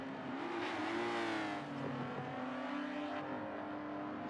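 Race cars climb a hill on a race track, engines droning and revving steadily at a moderate distance, with rising and falling pitch as they accelerate through the corners.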